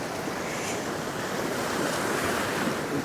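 Big waves surge and break steadily onto the shore at Beadnell, a continuous loud roar of surf with wind buffeting the microphone throughout.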